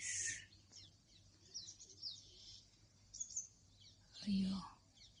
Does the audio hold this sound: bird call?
yes